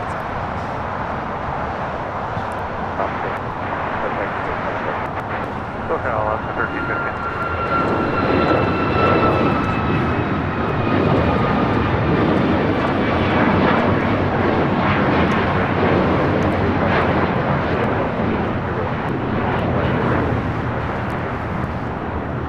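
An Alaska Airlines Boeing 737 MAX 9 takes off from LAX for Portland: a loud jet roar with gliding engine whines that swells near the middle, then holds and slowly eases, heard alone without talk.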